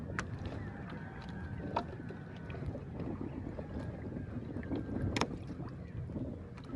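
A small fishing boat rowed by hand on open water, with faint paddle and hull sounds and occasional knocks over steady wind and water noise, quiet and without talking.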